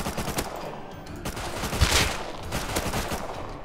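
Rapid bursts of automatic gunfire from the survival game Rust crackle loudly and almost continuously, with dense overlapping shots, a sharper crack near the middle, and no talking.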